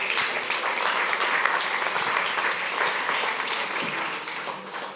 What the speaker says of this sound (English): An applause for Joan, please.